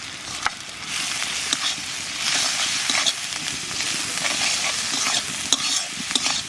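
Onion and chili frying in a pan while being stirred, a constant bright sizzle with repeated scraping and clinking of the spoon against the pan, close and loud with no talk.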